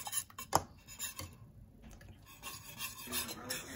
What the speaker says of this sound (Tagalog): Hindi ko ito talaga hinintuan na haluin para hindi siya buo-buo.